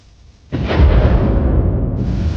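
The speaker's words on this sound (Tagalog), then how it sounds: "May kasamang matatalim na kidlat at malakas na hangin." A sudden loud crack of thunder breaks in and rolls into a sustained deep rumble with windy noise during a nighttime storm.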